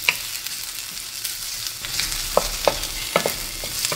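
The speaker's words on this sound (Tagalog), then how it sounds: "Igigisa lang natin ito ng mga 30 seconds." Chopped garlic sautés in a pan for ginisang upo with sardinas, giving a steady soft sizzle with occasional stirring scrapes and light clinks, close and without talk.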